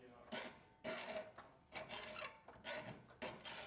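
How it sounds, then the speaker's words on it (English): A hacksaw cuts through material clamped in a vise, giving several rasping back-and-forth strokes in a steady rhythm, close and moderately quiet, with short pauses between pushes. "To start your cut, you can put your hand on the opposite side of the hacksaw"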